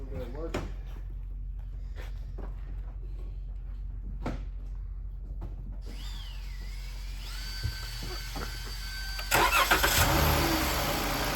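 A Chrysler 200 engine cranks and starts after an oil cooler repair, then settles into a steady idle. People talk before and during the start-up.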